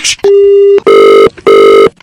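A telephone rings loudly and close, in two long electronic tone bursts after a short beep, with a brief rustle at the start.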